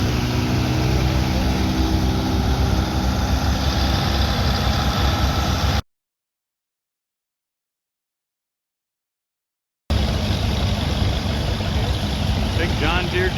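An Allis-Chalmers 8550 tractor rolls past in a parade with a loud, steady diesel engine rumble up close. The sound cuts out to silence midway, then the engine returns.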